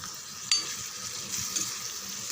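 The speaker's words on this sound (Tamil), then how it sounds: "பாதி அளவுக்கு வதங்கட்டும் ஃப்ரெண்ட்ஸ் வெங்காயம்." Onions, green chillies and curry leaves sauté in a pan for a banana flower stir-fry, giving a steady soft hiss of frying with a sharp clink of a spatula against the pan near the start.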